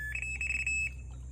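A fishing bite alarm on an alligator gar fishing trip gives a quick series of high-pitched electronic beeps, close and bright, then falls silent.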